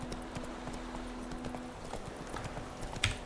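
Horse hooves clip-clop steadily along a path in The Witcher 3 around White Orchard, a brisk repeating rhythm of close, clear strikes with a low constant hum under it and a brief louder knock near the end.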